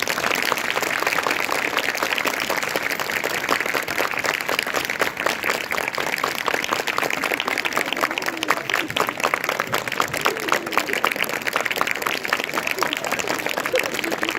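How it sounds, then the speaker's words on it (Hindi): Steady applause from a school audience for a theater workshop team, even and continuous throughout, with faint voices mixed under the clapping. "तो एक बार पूरी टीम के लिए जोरदार तालियां"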